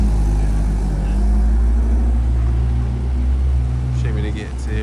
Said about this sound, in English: Very nice looking pair of Golfs rolling out now.